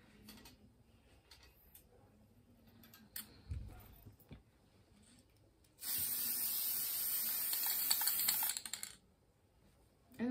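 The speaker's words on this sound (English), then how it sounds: "So I'm just gonna spray it." Steady hissing spray from an aerosol can, one continuous burst of about three seconds, preceded by quiet handling and small clicks.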